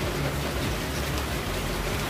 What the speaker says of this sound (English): And the rain is continuously increasing.